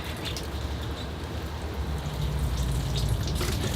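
Water from a watering can pours steadily over a yucca bonsai forest, rinsing and flushing soil from the pot, a continuous close splashing wash that grows slightly heavier toward the end.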